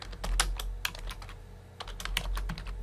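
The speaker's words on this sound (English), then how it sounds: "And so you type in a subject." Typing on a computer keyboard, quick bursts of close, crisp key clicks in an irregular rhythm with a short pause midway.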